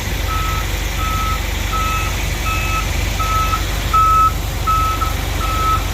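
A truck reverses beneath a trailer with a steady series of evenly spaced electronic backup beeps over a constant low engine rumble, loud and close with no talking.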